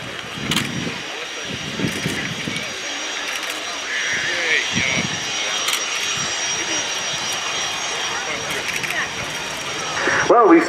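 A Finnish Air Force F/A-18C Hornet fighter jet flying a solo display at an air show, its engine roar sustained and moderately distant beneath crowd noise and scattered clicks, swelling louder at the very end.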